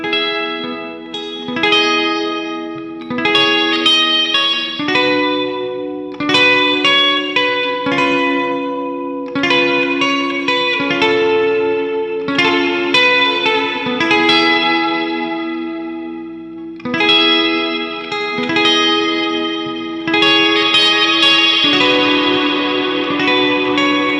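Electric guitar played through an EarthQuaker Devices Ledges reverb pedal, with chords and arpeggios that ring continuously and swell into a wide, cathedral-like wash as the decay length is raised.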